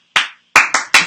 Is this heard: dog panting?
no